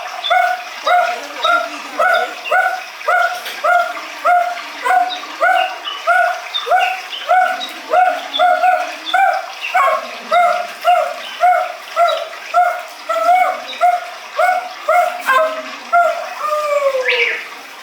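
Dog yelping in a Malay wayang kulit shadow puppet performance, a long run of rapid, loud, evenly spaced high yelps repeating for many seconds, ending in a drawn-out whine.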